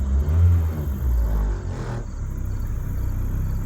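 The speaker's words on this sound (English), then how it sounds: "it's idling a little rough because the whole rear end of this car is ripped off" A Ford Focus engine, 118,258 miles, with its rear end torn off, idles roughly after easing down from a rev, a close, uneven low rumble that continues steadily.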